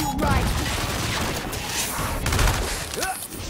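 Shotgun blasts and gunfire in the turn-based combat game Gears Tactics, a dense run of loud booming shots and crashing impacts over a busy battlefield mix.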